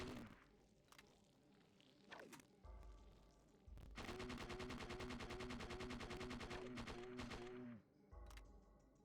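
Gunshots in the video game Parasite Eve 2: a few single shots, then a long rapid automatic burst of evenly spaced loud reports lasting several seconds, followed by a couple more shots.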